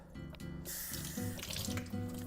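Water runs from a kitchen tap into a sink as potatoes are washed, a close, continuous splashing stream with small shifts as the flow is disturbed.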